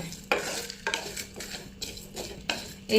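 Dry red chillies lightly roasting in a pan for an aloo achar, with a steady soft sizzle broken by several sharp stirring scrapes at a regular pace, close and moderately loud.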